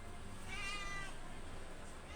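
A cat gives one clear drawn-out meow, quiet and fairly close, over a low steady background hum.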